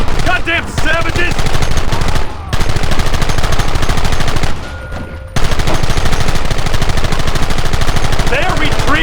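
Dense rapid gunfire in the Western video game Red Dead Redemption, loud sustained bursts of rifle and machine-gun shots with two brief lulls, voices shouting faintly beneath.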